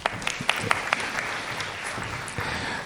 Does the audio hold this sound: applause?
yes